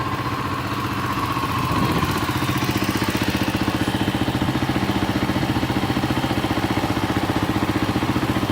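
A 1986 Kawasaki KLR motorcycle engine idles close by with a steady, even single-cylinder thump and a light mechanical clatter, settling into a regular rhythm after a brief rise in revs near the start.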